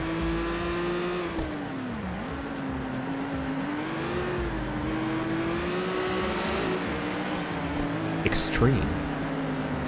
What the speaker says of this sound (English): Oh, I hear the Panos LMP.